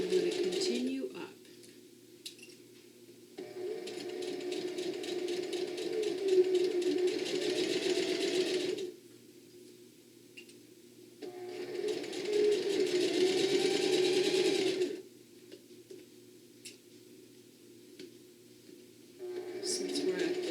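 Slow stitching from a sewing machine on a bag, with a back tack, comes in two sustained motor runs with brief quiet gaps between them, and a voice talks along.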